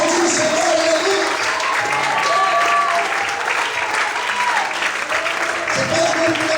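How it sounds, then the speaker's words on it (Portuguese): Sustained applause from a church congregation fills the space, broad and steady throughout, with voices calling out and faint tonal sounds riding above the clapping. "Será que você pode aplaudir o Senhor?"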